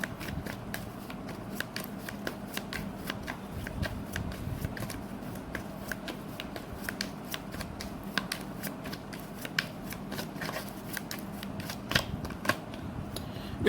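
Tarot cards shuffled continuously, a steady stream of crisp, rapid riffling clicks and flutters close up, with no talking.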